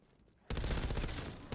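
Machine gun fire from an MG in Call of Duty Zombies, starting abruptly after a quiet moment as a loud, sustained rapid burst that runs for about a second before a brief break and resumes.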